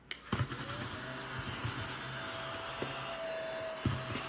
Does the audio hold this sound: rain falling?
no